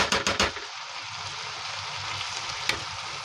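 Chopped banana flower sautés in a pan, a continuous soft sizzle with a few sharp clattering stirs at the start and one brief knock later, no voices.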